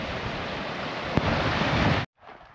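Loud, rushing lake waves with heavy wind buffeting the microphone on a cold, rainy hike, a constant roar that suddenly drops away near the end.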